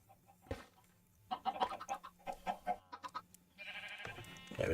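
A chicken clucks in a Skyblock video game, a run of repeated short clucks close by and fairly faint, followed by a louder burst of game noise.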